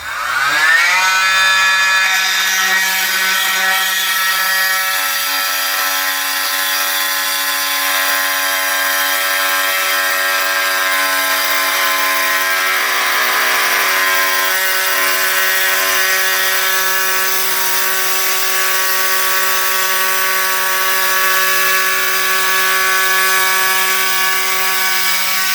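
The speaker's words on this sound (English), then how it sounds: "whenever you're using the multi-tool or the angle grinder, keep your blade as close as possible to the damaged tile" A multi-tool or angle grinder cuts out the grout around a cracked floor tile with a loud, steady, high-pitched whine that runs continuously and close up for the whole stretch.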